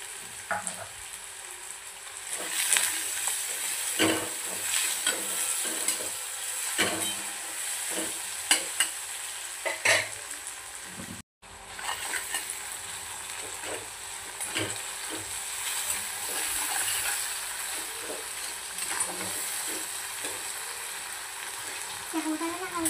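Onions fry in oil for chicken alani, a continuous close sizzle with repeated scraping and stirring taps, a brief cut to silence midway, then more sizzling and stirring; a voice speaks faintly at times.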